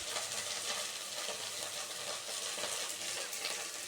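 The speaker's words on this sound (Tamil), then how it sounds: "நல்லா வெண்டைக்காய் வதங்கட்டும்." Soft, steady sizzling of okra frying in a pan, a continuous hiss with faint stirring scrapes, no voices.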